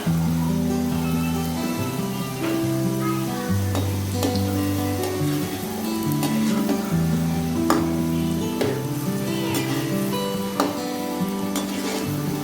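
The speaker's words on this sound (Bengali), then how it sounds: "তেল গরম হলে গোল গোল বলগুলোকে দিয়ে দিন। এবার ভালো করে ভেজে নিন।" Potato balls deep-fry in hot oil with a dense, continuous bubbling sizzle, loud and close, with no talk over it.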